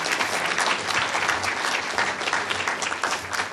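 A City Club audience claps warmly for a speaker at a civic luncheon talk, a dense, steady round of applause throughout with no voices above it.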